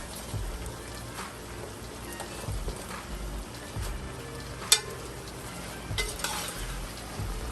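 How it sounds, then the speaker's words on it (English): Cabbage fries with a faint crackle in a pan as it is stirred, with intermittent scrapes and one sharp clack over a soft, steady sizzle. "I'm going to go ahead and start dropping my cabbage in there, and I'm going to drop them, stir it around, and cook it down"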